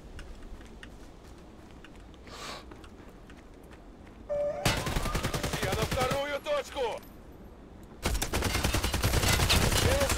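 UMP45 submachine gun fire in the shooter game Hired Ops: quiet ticking at first, then two loud, dense bursts of rapid automatic fire, close by, with squeaky mechanical and game sounds mixed in.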